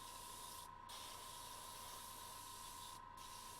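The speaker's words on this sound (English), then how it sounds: "Just want to spray the whole model with the gunmetal." An airbrush sprays gunmetal paint over a whole miniature model in a continuous close, loud hiss, broken by two brief pauses where the spray trigger is released and then pressed again.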